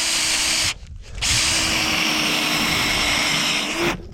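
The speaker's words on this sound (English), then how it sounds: "Drill my hole." A power drill whines loudly while boring a hole for a coyote trap set among corn stalks, stopping briefly and then running again in a steady, close drone.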